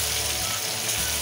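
Beef tripe for kare-kare sizzles in a hot pan, a dense, steady, close crackling hiss filling the whole moment with no talk.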